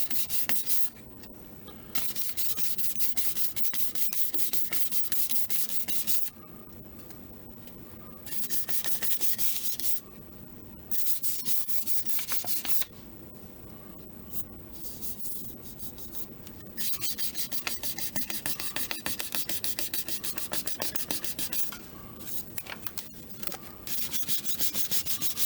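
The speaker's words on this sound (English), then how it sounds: "Got a pretty good air pocket right there I'm sanding out." Sanding epoxy on a wooden spindle, a continuous abrasive rasp that stops and restarts in several bursts with short quiet pauses between strokes.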